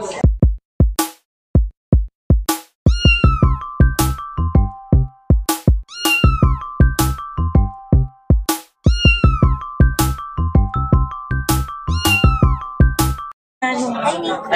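Cats meow at an International Cat Show at Bay View Park Hotel, with loud, sharp repeated cries in quick rhythmic bursts through most of the stretch, close to the microphone.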